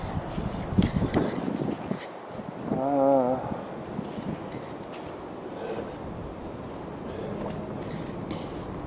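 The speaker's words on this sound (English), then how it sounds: "it's a little breezy, but it's not bad at all" Breezy, almost warm wind blows outdoors, buffeting the microphone in a continuous soft rush with gusts rising and falling, plus a brief tonal creak or whine near the start of the gust.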